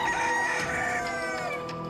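Cockerels crowing next door, with a long drawn-out cock-a-doodle-doo carrying clearly over other clucking fowl at moderate distance.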